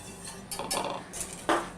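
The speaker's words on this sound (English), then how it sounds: "we'll stir to combine" Fresh thyme, rosemary and hot pepper flakes are stirred in a pan with a utensil, giving a few close scraping and clinking strokes against the metal, with one sharper clink near the end.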